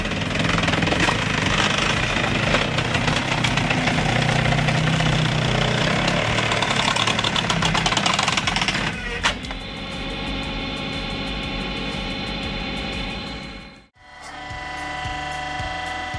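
A homemade automatic firewood processor runs loud and steady, its hydraulic system and saw drowning everything in a harsh, rattling roar that shifts pitch partway through, then cuts out sharply near the end before starting up again.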